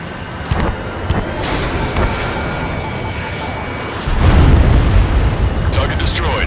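Destroyed enemy aircraft blowing up in Ace Combat 7, a heavy rumbling explosion that swells louder partway through over constant jet and combat noise, with radio voices talking.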